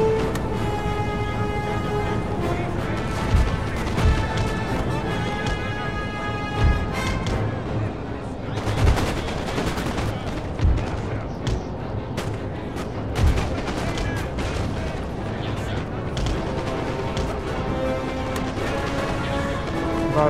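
Cannon fire from artillery in the video game Napoleon Total War booms repeatedly amid a dense, continuous battle din of musketry and clashing, with someone talking over it.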